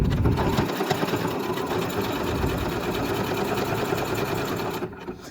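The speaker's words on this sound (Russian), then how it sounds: "Делаем небольшую закрепку, буквально там в 1-2 миллиметра вперед, назад, и пошли шить." Sewing machine stitching lingerie fabric for Brazilian-style panties, running steadily and close with a brief back-and-forth backtack near the start, then continuous stitching throughout.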